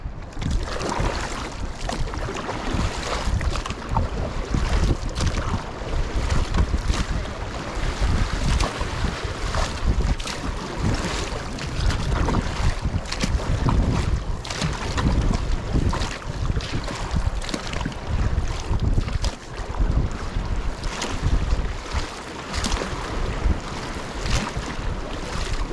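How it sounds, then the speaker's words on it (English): A boat is paddled on a shallow river near Jackson Hole, with irregular splashing and water churn under heavy wind buffeting the microphone, continuous and close throughout. "So we're gonna paddle again, kind of out this little spot, out towards that flat water in front of us."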